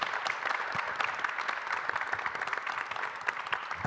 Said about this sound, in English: we can get a round of applause for our panelists